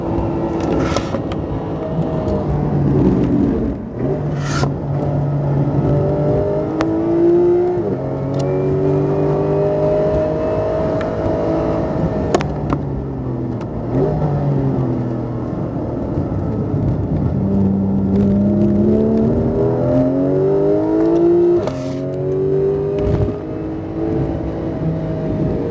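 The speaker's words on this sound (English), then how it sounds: "Try to drive as smooth as you can and just run a perfect line." A Porsche 911 GT3 circling a race track makes a continuous loud engine note that rises and falls through gear changes and revs, heard from inside the car with no talk.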